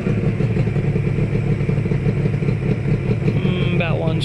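A Yamaha RZ350 two-stroke motorcycle engine idles steadily just after startup, a loud continuous burbling rumble with a slight rattle, heard close with a brief higher squeal near the end.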